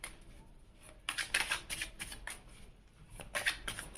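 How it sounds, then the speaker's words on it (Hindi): Tarot cards gathered into a pile and drawn from the deck during a reading, heard as several close, soft bursts of riffling and sliding card stock in quick succession. "मैं एक साथ ही सारे कार्ड्स ले लेती हूँ, 3 कार्ड मुझे और चाहिए"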